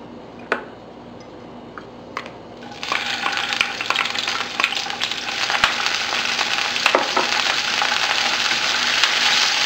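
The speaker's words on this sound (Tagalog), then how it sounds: "isosotay na natin or igigisa yung garlic at yung onion." Garlic and onion sautéing in hot cooking oil in a pan for pork menudo, starting with a few light clicks before a loud, dense sizzle erupts and holds steady, with occasional stirring taps.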